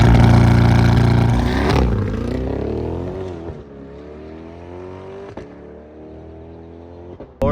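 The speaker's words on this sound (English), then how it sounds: "Now you're officially ready for launch control, so foot on the brake, floor it." A Chevrolet C8 Corvette is held on the brake in launch control, its engine revving loudly at a steady high pitch before the tone sweeps and then slowly winds down, with a few sharp clicks near the end.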